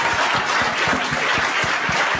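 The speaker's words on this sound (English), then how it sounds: "A round of applause for our stacked panel over here." Dense, continuous clapping from an audience after a panel discussion at a women-in-tech leadership event, loud and sustained throughout.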